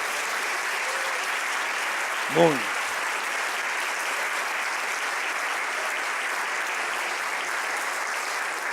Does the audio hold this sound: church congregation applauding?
yes